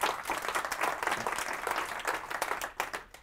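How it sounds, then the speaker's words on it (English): A conference audience at a FOSDEM Internet of Things developer room applauds a presenter in a dense, steady wash of many hands clapping at moderate volume, continuing throughout with no pause. "So a big hand of applause for Alexander."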